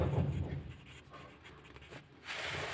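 Pen writing on a paper form being filled in offline for caste, income and residence certificates, a light scratchy scribble running steadily for a few seconds, close and without talk.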